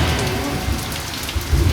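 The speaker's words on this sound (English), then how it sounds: "within minutes, it started pouring" Heavy rain pours down at an outdoor wedding, a dense, loud, steady hiss of drops striking surfaces with low rumbling underneath.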